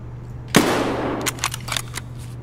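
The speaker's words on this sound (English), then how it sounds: "a shot just was right past my head" A single sharp gunshot cracks close by in the Escape From Tarkov shooter, its noisy burst trailing off over a second, followed by a few faint, quieter pops, all over a steady low electrical hum.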